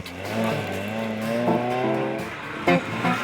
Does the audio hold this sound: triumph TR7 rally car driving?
yes